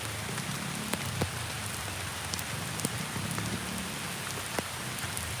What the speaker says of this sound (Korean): 들으셨죠? 비가 너무 많이 오고요.